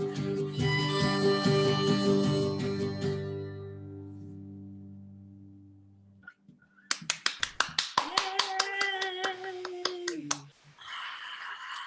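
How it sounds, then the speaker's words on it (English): A crowd at a live music release show claps rapidly and cheers after sustained instrumental notes fade out, the applause building to a loud burst before tapering, with voices mixed in. "That's the crowd going wild."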